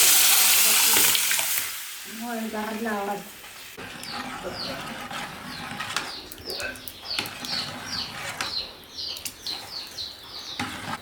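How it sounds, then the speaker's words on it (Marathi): A taro mixture with red chili and turmeric hits hot oil in a pan with a strong sizzle, then settles into steady frying broken by rhythmic scraping and stirring strokes close by. "त्यानंतर लाल तिखट आणि हळद घालून लगेच तयार केलेलं तेराचं मिश्रण त्यात सोडूयात आणि सगळं एकजीव करून घेऊया."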